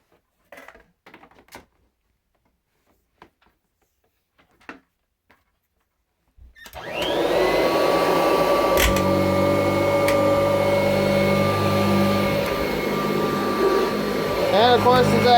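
A 1984 Kirby Heritage 2 upright vacuum cleaner starts after a few quiet seconds with faint clicks, then runs loud and steady with a high motor whine, after long disuse.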